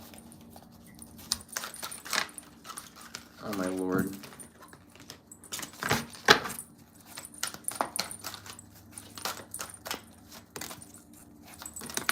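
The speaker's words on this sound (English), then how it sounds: "I'm going to shuffle 5 more times because y'all are being weird." A deck of tarot-style cards that tends to stick together is shuffled up close in a quiet room, giving irregular soft riffling clicks and snaps in short bursts, with a brief spoken exclamation in between.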